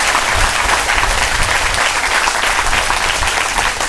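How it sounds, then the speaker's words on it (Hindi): A church congregation at a Hindi-language worship service claps loudly and continuously in praise, a steady dense roar of many hands, close and sustained throughout. "हम ताली बजाकर परमेश्वर को स्तुति करेंगे।"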